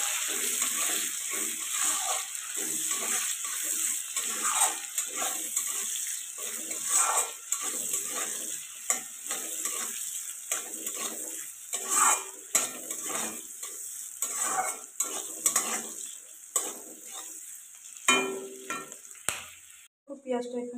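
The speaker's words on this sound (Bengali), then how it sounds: "পেঁয়াজ আর লঙ্কাটা এখন ভালো করে ভেজে নিতে হবে।" Chopped onion and green chili fry in hot oil in a home kitchen pan, giving a close, steady sizzle broken by repeated scraping and clinking of a spatula stirring, with no one talking over it.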